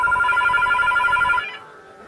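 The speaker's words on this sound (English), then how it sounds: "I'm not going to answer that. You'll have to do with the ringing." A telephone bell rings loud and close in a steady trilling burst, then stops abruptly, leaving a quiet room.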